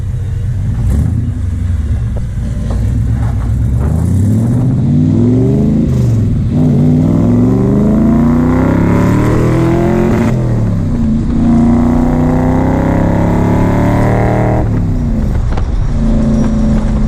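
An AC Cobra sports car with a loud V8 roars as it revs and accelerates hard through the gears, engine pitch climbing and dropping repeatedly, close and continuous for the whole stretch.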